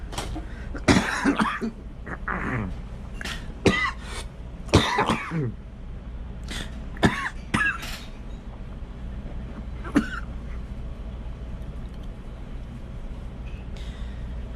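Several sharp coughs scattered across a quiet diner interior, some in quick pairs, with a low steady hum underneath and no talking.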